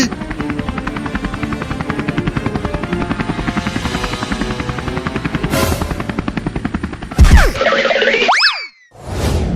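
Loud, steady helicopter rotor chop fills the clip up close, then cartoonish boing and whooshing sound effects break in near the end.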